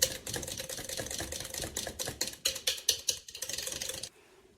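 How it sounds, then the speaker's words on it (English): Coffee butter body scrub is whisked in a bowl, a quick series of soft, close scraping and clicking strokes in an irregular rhythm that stops abruptly near the end. "let's just give this a little whisk"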